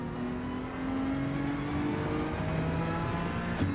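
A race car engine in Gran Turismo 7 revving, a steady high whine with rising tonal harmonics, sustained and moderately loud, ending in a short burst near the end.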